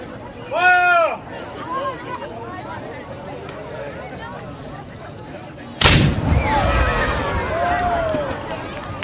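A cannon fires at Fort Phoenix in Fairhaven, Massachusetts: a single sharp, loud outdoor blast with a rolling tail, among a chattering crowd and calls from people nearby.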